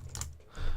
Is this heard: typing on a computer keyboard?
yes